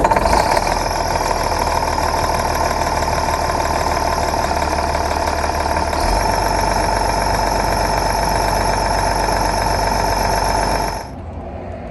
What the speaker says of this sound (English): I should have warmed up the engine again.